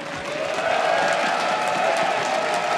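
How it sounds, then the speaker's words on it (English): Steady applause from a crowd at a StarCraft 2 esports grand final in an arena, dense clapping with a few faint cheers blending in, sustained at an even level throughout. "Can we give a round of applause for our desk up there?"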